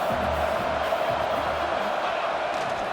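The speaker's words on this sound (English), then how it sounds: "And the crowd coming to life here, trying to help this defense down in the red zone" A stadium crowd roars in the NCAA 26 college football video game as the home defense holds in the red zone, a dense, continuous wall of cheering with low voices murmuring underneath.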